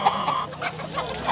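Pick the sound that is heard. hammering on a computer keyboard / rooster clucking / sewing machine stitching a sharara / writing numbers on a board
rooster clucking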